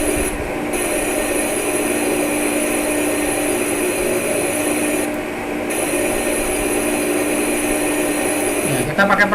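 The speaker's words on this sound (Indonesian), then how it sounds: "Kita coba bor sedalam 10 mili." A metal lathe drills a 10 mm deep hole while making a square-thread teaching tool, giving a steady grinding, whirring drone with brief dips partway through.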